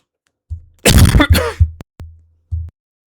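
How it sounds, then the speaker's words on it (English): A person coughs close to a microphone: one harsh, raspy burst followed by a shorter rough second burst, with a few soft low thumps around them and no talking. "Sometimes the cough just comes."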